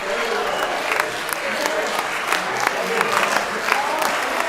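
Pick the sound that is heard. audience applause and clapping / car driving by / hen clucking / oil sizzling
audience applause and clapping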